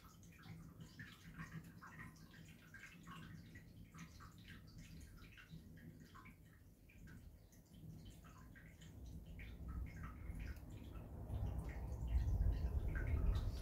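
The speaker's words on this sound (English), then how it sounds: "so I'm listening to the water" Soft, steady trickling and dripping water runs continuously, quiet and close, growing slightly louder and fuller toward the end.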